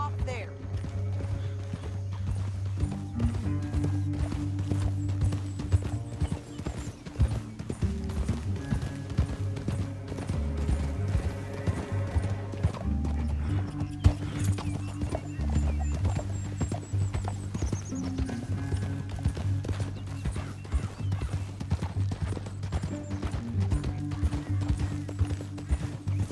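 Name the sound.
horses galloping in a video game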